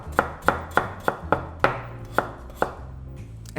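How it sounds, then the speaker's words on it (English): Onions and potatoes being chopped into small pieces with a knife on a board for a Spanish potato tortilla, eight sharp, close knocks at a steady rhythm, followed by a faint pause with no talking. "we're gonna chop the potatoes into small pieces as well"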